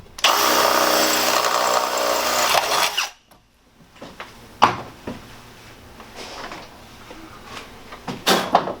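A power drill whirs steadily for about three seconds while installing ceiling struts in a Mercedes Sprinter 170 van, then stops, followed by scattered clicks and light knocks of handling.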